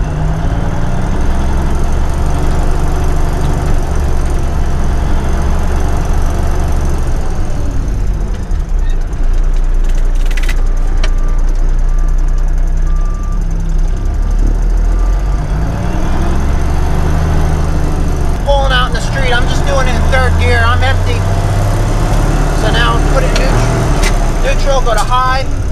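The engine of a 10-wheel dump truck runs steadily in low range, a loud, continuous low rumble close by throughout, with a few faint squeaks and clatters near the end.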